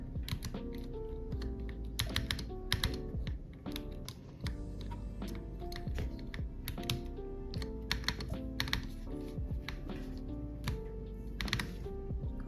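An Akko 5075B Plus V2 mechanical keyboard has its Enter key pressed repeatedly, giving sharp, close clacks in irregular bursts with short gaps between them.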